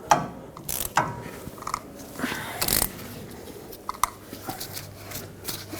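Ratcheting on the rear hub of a 2011-2016 Ford F-350, tightened to seat the wheel bearings; close, irregular clicks and metallic turns with a few sharper knocks, no talk.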